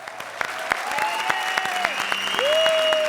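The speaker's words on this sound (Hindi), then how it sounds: "तालियां" Audience at a live comedy show breaking into loud, sustained clapping that fills the room, with a held tonal note and a brief voice rising over the applause.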